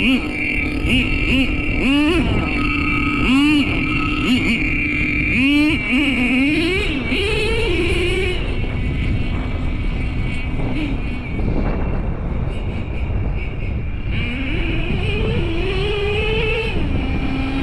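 A Traxxas T-Maxx RC truck with an OS .18TM nitro engine and dual pipe buzzes at idle, repeatedly blipping up into short high-pitched revs that fall back, then settling into a rough, hanging idle before rising again.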